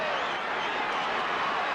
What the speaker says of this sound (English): The crowd sensing something.